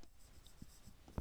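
Pen or marker writing on paper while working a numerical LU decomposition example, quiet scratchy strokes with a couple of brief taps, close and soft.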